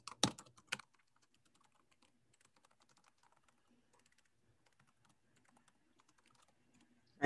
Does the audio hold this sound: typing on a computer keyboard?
yes